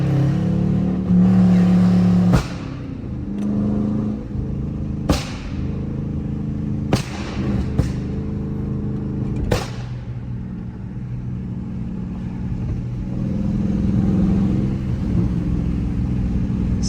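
Loud exhaust burbles from a burble-tuned Dodge Charger RT rumble under a steady idle, broken by several sharp cracks and pops spaced a few seconds apart, heard close up with no talking.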